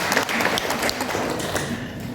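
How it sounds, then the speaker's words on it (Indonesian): A short burst of applause from a seminar audience welcoming Andi, a cluster of quick overlapping claps, moderately loud, with no talk over it. "Tepuk tangan Andi."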